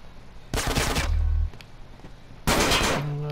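Gunfire in the video game Grand Theft Auto: San Andreas comes as two loud rapid bursts of automatic shots separated by a quieter pause.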